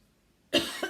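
A single sharp cough from a person bursts out suddenly after near silence, close and fairly loud.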